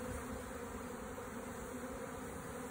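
Honey bees hum in an even, unbroken drone close to a newly installed hive, some carrying pollen, with a steady full buzz throughout and no voices over it.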